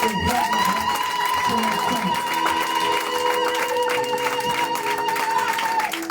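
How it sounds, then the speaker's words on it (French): A church congregation at a Sunday thanksgiving service cheers and claps steadily throughout, a dense crowd roar mixed with music and a held tone. "Est-ce que tu peux donner un tonnerre d'acclamation?"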